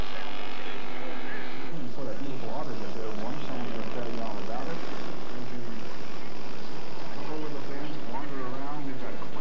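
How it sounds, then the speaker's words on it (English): A radio-controlled scale model airplane makes a slow flyby with flaps down at a scale masters contest, its propeller engine droning steadily and shifting in pitch as it passes, loud throughout with faint background voices. "Slow down, flaps down, down and dirty flyby."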